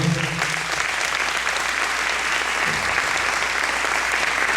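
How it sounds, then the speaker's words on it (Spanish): An audience at a Catholic Mass applauds in a steady, dense wash of clapping that fills the whole stretch, fairly loud and with no voices over it. "Un fuerte aplauso a Dios nuestro Señor."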